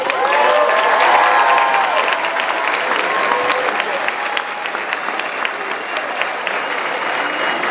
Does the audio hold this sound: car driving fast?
no